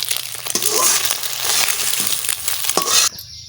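Eggs fry in hot oil, a loud, close, continuous sizzle with a few scraping clicks as they are lifted out, ending abruptly into quieter hiss.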